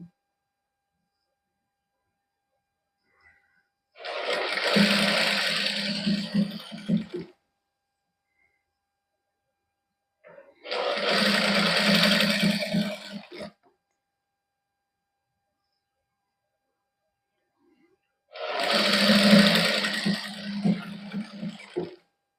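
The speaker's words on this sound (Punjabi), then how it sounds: "ਹੁਣ ਇਹ ਉਸੇ ਸਲਾਈ ਦੇ ਉੱਪਰ ਸਲਾਈ ਲਾ ਦਾਂਗੇ" Sewing machine stitching a second line over an existing seam on a folded garment with lace trim, three separate bursts of steady mechanical whirring of about three seconds each, close by, with silent pauses between.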